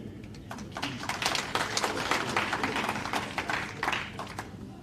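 A large crowd applauds at an ANC Secretary General's address in KwaZulu, with dense, steady clapping lasting several seconds and rising and falling in waves.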